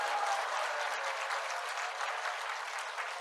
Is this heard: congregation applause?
yes